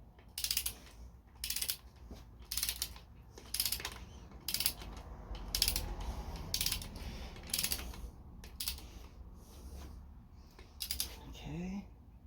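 A ratchet tightening bolts on a Honda Civic EK engine block during piston installation, giving close, repeated bursts of fast mechanical clicking with short pauses between strokes.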